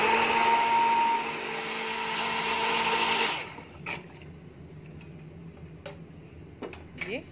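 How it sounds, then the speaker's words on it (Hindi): A hand blender mixing cold milk for thandai whirs steadily with a high-pitched motor whine for about three seconds, then stops, leaving quiet clinks and faint background noise. "हम इसे हैंड ब्लेंडर से मिक्स करेंगे"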